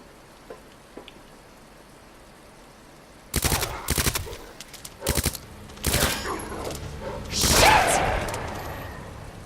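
Gunfire while strafing in Resident Evil 2 Remake, a run of sharp shots in uneven bursts after a quiet opening, ending in a louder, longer rattle.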